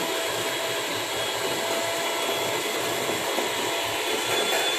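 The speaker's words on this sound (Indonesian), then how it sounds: "Ini kita kocok sampai dia setengah mengembang" Electric mixer whirring steadily as it beats cake batter until half risen, a constant loud high-pitched drone with no pauses.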